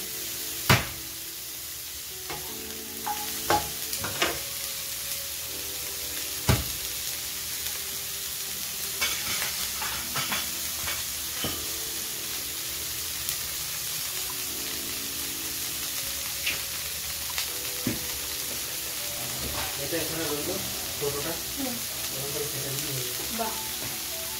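An egg fries among green capsicum and other greens in a pan, giving a steady close sizzle with scattered scraping stir strokes and occasional sharp clicks; a voice murmurs faintly in the background now and then.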